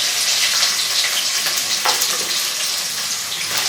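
Onion and green chili frying in hot oil for a black pepper mutton dry dish, a continuous bright hissing sizzle, close and fairly loud, with a faint clink partway through and no voices.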